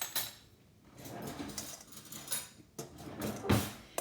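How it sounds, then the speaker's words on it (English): Sweet potato fries being tossed with a tablespoon of oil and half a teaspoon of Righteous seasoning in a bowl, giving a series of soft rattling, clattering bursts at close range with brief pauses between them. "I'm just going to toss these around"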